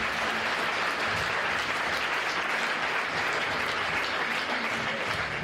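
A church congregation applauding for the Lord Jesus, dense, sustained clapping from many hands that fills the room evenly from start to finish.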